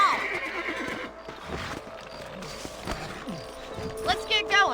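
Horses in the video game Red Dead Redemption whinny and neigh over clip-clopping hooves, with synthetic game-like effects and a few brief sounds layered in.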